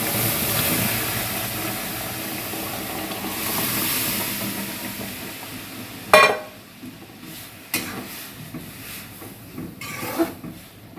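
Red lentils drop into a hot pan of frying water spinach: a loud, steady sizzling hiss gives way to a sharp burst at the addition, then quieter bubbling broken by a few clattering knocks.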